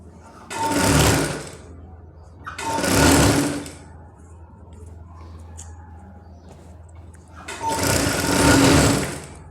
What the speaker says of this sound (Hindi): फिर हम इसको किनार का टाँका लगा देंगे, बिल्कुल किनार का टाँका लगाएंगे इसमें।